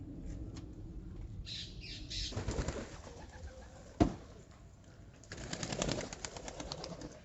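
Homing pigeons coo and squawk at feeding time, soft throaty calls and a few louder bursts close by, with scattered flutters and one sharp knock over a quiet background.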